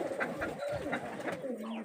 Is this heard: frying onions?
no